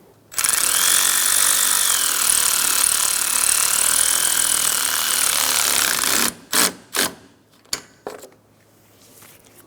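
Power tool on a 2007-2012 Nissan Altima, snugging a 10mm bolt on the radiator support. It gives a steady loud high whir for about six seconds, then several short bursts, with no voice.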